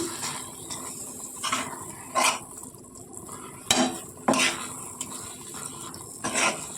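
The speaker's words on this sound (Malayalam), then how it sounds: "നല്ലപോലെ മിക്സ് ചെയ്യാം ഒന്നുകൂടെ ഒന്ന് മിക്സ് ചെയ്ത് ഒരു രണ്ട് മിനിറ്റ് കൂടെ വിളയിച്ചെടുക്കണം" Sweet jackfruit filling flavoured with ground cardamom is mixed in a pan, giving repeated scraping and thudding stir strokes at an uneven rhythm over a faint background sizzle.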